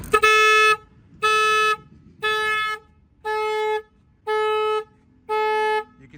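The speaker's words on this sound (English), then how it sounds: "So when I reconnect the battery terminal, the horn's gonna start honking." A Jeep Wrangler's alarm horn blares in six evenly spaced, sustained honks after the battery is reconnected, loud and close, with brief quiet gaps between each blast.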